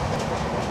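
A passenger train runs on the rails, heard from inside the carriage as a loud, continuous rumble with rattling and steady clatter, no voices.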